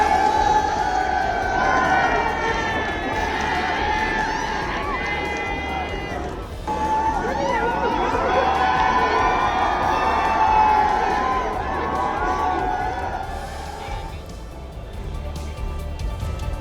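Crowds stand on neighbouring rooftops during the Uttarayan kite festival, and their shouts and cheers rise and fall through a long stretch. Many voices overlap loudly in a busy outdoor din, with a short dip partway through.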